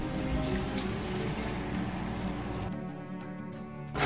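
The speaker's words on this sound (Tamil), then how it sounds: "இதுக்கு ஒரு 1/4 கப் தண்ணி விட" About a quarter cup of water is poured into a pot of potatoes for shrimp bonda, a close, rushing splash that stops abruptly partway through, leaving a quieter kitchen hum.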